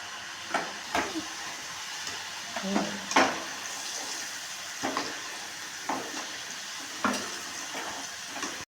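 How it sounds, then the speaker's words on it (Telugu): Potato pieces for french fries sizzle in hot oil on their second fry, a steady bubbling hiss broken by several sharp crackles and pops, close and fairly loud with no talking. "మళ్ళీ ఒకసారి సెకండ్ టైము ఈ పీసులన్నింటినీ సెకండ్ టైం ఫ్రై చేసుకోవాలి."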